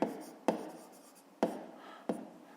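Pen strokes scratch on paper in four short, distinct bursts, close and quiet, while someone writes out a maths exercise by hand.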